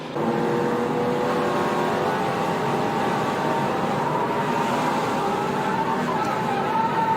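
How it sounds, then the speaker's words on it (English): A loud, continuous engine roar with a steady tonal whine as a NASCAR Truck Series race truck drives hard, tires squealing; no distinct pauses, just constant mechanical noise throughout. "you can hear the tires squeal."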